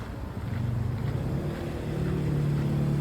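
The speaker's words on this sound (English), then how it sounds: "There you got the four-wheeler on the tracks going by." A four-wheeler rides along the tracks in rural Northern Ontario, its engine a steady, rumbling drone that holds close and loud throughout with no talking.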